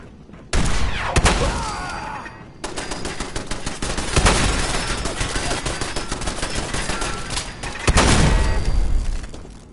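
Heavy gunfire in Fallout 4, loud rapid bursts of automatic shots and booming blasts overlapping almost continuously, with brief gaps between volleys.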